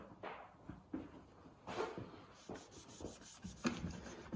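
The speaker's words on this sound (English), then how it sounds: "we'll get the Q-tips or cotton buds, whatever you want to call them, into all the nooks and crannies as well" Cotton buds rubbed over the plastic casing of a vintage ITT Polo 360 radio cassette player, giving soft, faint scratchy rubbing strokes in short irregular bursts at close range.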